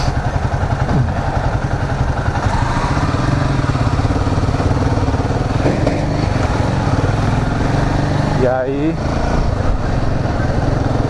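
A Royal Enfield Himalayan 450 motorcycle rides through city traffic, its engine giving a loud, close, steady rumble throughout while someone talks over it.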